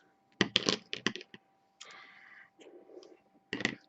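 Scissors snip through crochet yarn up close, a handful of sharp crisp clicks in quick bursts separated by brief quiet rustles.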